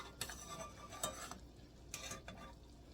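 A metal spoon stirs pancake batter or fruit syrup in a pan, giving a few scattered scrapes and clinks against the metal. The sounds are soft and sparse over a quiet background.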